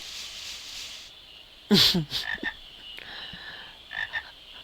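Frogs croaking in the video game Final Fantasy IX, a sharp close croak followed by a few shorter ribbits and another pair of croaks later, set against soft ambient game background.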